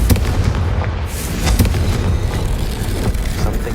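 Confringo fire spell cast in the Hogwarts Legacy video game, a loud burst of fiery explosions with crackling booms that keep rolling for a few seconds, and no talk.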